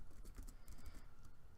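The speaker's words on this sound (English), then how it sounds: "I'm just going to type this in actually because I have my keyboard with me." Typing on a computer keyboard at a desk, a quick run of soft key clicks with a few louder taps, close and steady, with no one speaking.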